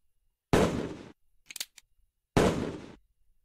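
Two loud, sharp shots from an 11 mm Remington 1858 revolver-carbine in the World of Guns video game, each with a short decaying tail, separated by faint mechanical clicks.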